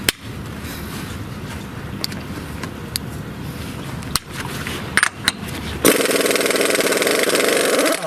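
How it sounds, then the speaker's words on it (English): A pneumatic impact wrench works on the wheel hub of a Duramax truck: a steady mechanical drone with scattered clanks, then a louder, harsh rapid hammering burst starts near the end and runs to the finish, close by. "I'm going to need to turn my impact up."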